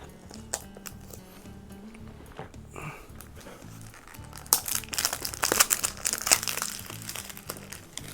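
Cellophane wrap peeled off a Nintendo Switch 2 box, close crinkling and crackling that grows louder and busier in the second half, over a steady low background hum.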